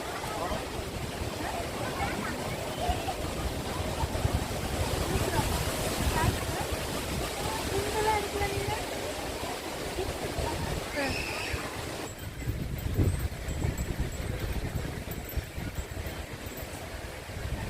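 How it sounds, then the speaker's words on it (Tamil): Waterfall at Kodandur on a trek, a constant loud roar of falling water that runs unbroken throughout, with faint voices now and then underneath. "இந்த அருவியோட சத்தம்"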